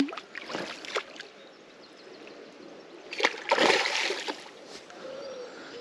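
A barbel thrashes at the surface of a river in the Severn Gorge by day, giving a loud burst of splashing and churning water midway through, with quieter trickles and small splashes before and after.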